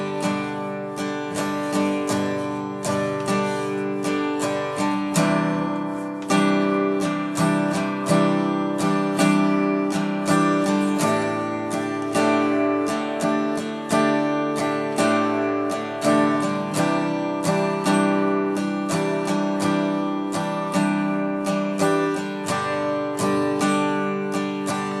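Acoustic guitar strumming the chords of a song at full speed, a steady, bright, continuous pattern played alone and close with no talking.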